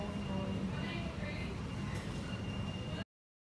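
Steady low rumble of a train interior, continuous and fairly loud, with faint muffled voices in the background before it cuts off abruptly.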